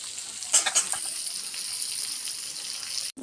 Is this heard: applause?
no